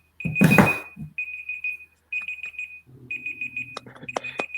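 A steady ringing tone sounds in repeated bursts, broken by a loud knock and clatter, with a low murmur underneath.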